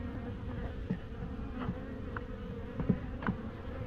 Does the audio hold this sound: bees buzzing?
yes